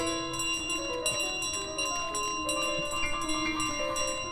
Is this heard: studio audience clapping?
no